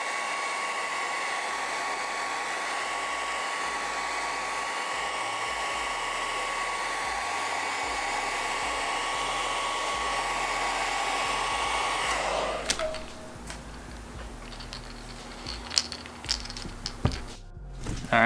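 A hot air tool heat-sets paint on a crankbait with a steady, loud whooshing blow and a high whine for about twelve seconds, then cuts off, leaving scattered handling clicks and taps.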